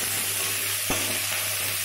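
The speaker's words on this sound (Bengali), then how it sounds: "এই সাদা তেলের মধ্যে আমি কুচিয়ে রাখা যে আলুগুলো আছে, সেই আলু, লঙ্কা ও পেঁয়াজ এগুলো আমি এর মধ্যে দিয়ে দেবো।" Chopped potatoes, green chilli and onion go into hot white oil in a pan, bringing steady sizzling frying with a brief louder burst as they hit, heard close and alone.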